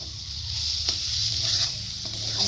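Egg bhujia masala sizzles in a pan over high heat with a continuous close hiss. A few soft scrapes come as it is stirred, and there is no talking.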